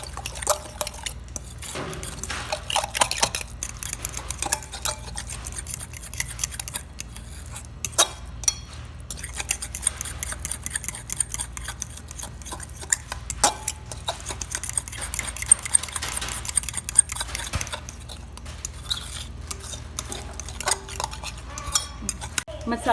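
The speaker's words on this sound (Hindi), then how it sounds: "अब हम इसको योगर्ट को मसाले के साथ फेंट लेते हैं" Yogurt being whisked with spices in a bowl for mutton achar gosht, a close, rapid, continuous clatter of a utensil tapping and scraping against the bowl with brief pauses, no talking.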